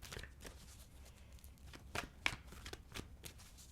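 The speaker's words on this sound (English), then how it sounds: "let's shuffle and pull the cards" Tarot cards being shuffled up close, soft riffling bursts with a couple of sharper snaps, quiet and alone.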